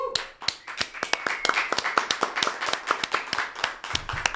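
A small studio audience on a Brazilian podcast claps to welcome guest Deive Leonardo, with sharp, close individual claps in a quick, fairly regular rhythm and several hands not quite in sync, continuing for about four seconds.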